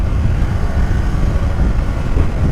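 A Kawasaki Ninja 500 SE engine rumbles hard and close, a dense, steady low drone held throughout as the bike accelerates.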